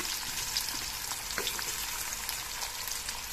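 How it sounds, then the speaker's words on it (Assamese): Onions dropped into hot oil in a kadai for an eel fish curry, giving a steady, dense sizzle and crackle that runs evenly throughout with no voices. "ইফালে কেৰাহীটোত মই অলৰেডি তেল গৰম হ'বলৈ দি দিছো এতিয়া পিয়াজখিনি দি দিম"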